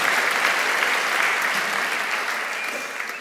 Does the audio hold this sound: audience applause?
yes